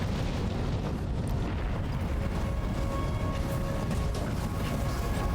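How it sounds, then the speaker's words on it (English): Rockets fire and explode in Death Stranding 2 during a battle with ghost mechs, a dense, continuous roar of booms and blasts with a heavy rumbling low end and no clear breaks. "The Magellan is shooting off rockets, the ghost mechs are out."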